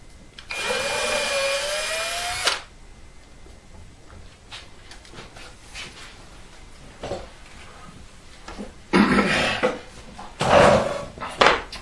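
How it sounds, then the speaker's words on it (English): A drill reams out a hole in a maple electric guitar body, a loud whirring grind lasting about two seconds near the start, followed by quieter workshop noise and a few short bursts of handling sound. "go ahead and just ream that hole out"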